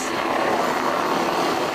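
Black Hawk military helicopters flying during a military exercise, heard as a steady, loud broadband rotor and engine roar that holds constant throughout with no pauses.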